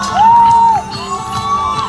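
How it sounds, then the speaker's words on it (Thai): A crowd at a Thai live music stage show cheers loudly, with a high rising whoop or whistle over sustained shouting that stays strong through the moment. "เสียงปรบมือดังๆครับ"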